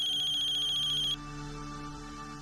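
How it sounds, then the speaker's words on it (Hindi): A telephone rings with a bright electronic trill that cuts off abruptly partway through, leaving quiet room tone behind. "माधव बेटा, एक फोन आ गया है।"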